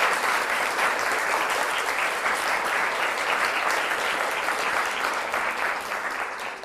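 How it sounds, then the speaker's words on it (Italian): A studio audience gives teachers a sustained round of applause, dense and even clapping throughout, tapering slightly at the end. "Fate un applauso alle vostre"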